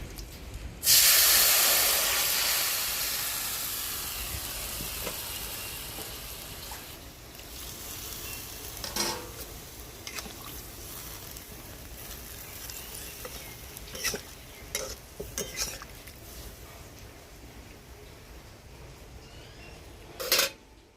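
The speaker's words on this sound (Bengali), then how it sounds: "আমাদের নিম ঝোল একদম রেডি, ফুটতে শুরু করে দিয়েছে।" A vegetarian neem leaf curry cooks in a pot over a wood fire, opening with a loud hissing rush as liquid is poured in, then a softer steady bubbling simmer broken by scattered clinks and pops.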